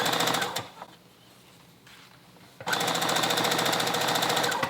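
A sewing machine stitches a hooded long-sleeve jacket, running in a fast rapid patter for a moment, pausing briefly with a low hum, then resuming a loud, steady mechanical chatter up close.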